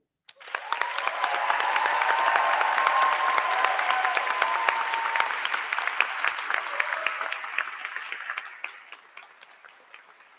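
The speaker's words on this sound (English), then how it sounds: "I'd like us to give a huge round of applause to the class of 2023" An audience at a commencement ceremony bursts into loud, sustained applause for the graduating class of 2023 that swells quickly, holds for several seconds, then gradually fades to scattered claps.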